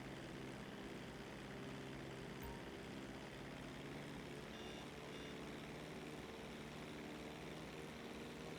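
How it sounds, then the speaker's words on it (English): A propeller airplane engine in Grand Theft Auto Online drones with a constant low hum throughout, faint and steady, with no talk. "You don't have to hear the plane noises constantly."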